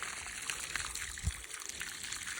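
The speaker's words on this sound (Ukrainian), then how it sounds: "Зараз буду виконувати полив." Water flows steadily from a homemade tap onto grape seedlings sitting in small basins, a constant hissing gush with faint splashing, moderately loud and alone.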